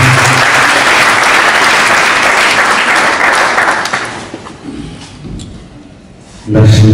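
Sustained applause from a church congregation fills the first four seconds, then thins and fades, giving way to quieter murmuring before a loud burst of voices near the end.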